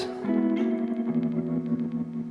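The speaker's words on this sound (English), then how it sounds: "these really pretty glitchy textures out of the reverb" A lo-fi guitar effects pedal with a dark, dreamy reverb and an LFO frequency divider gives off wavering, glitchy sustained tones with a stuttering echo, moderately quiet and alone.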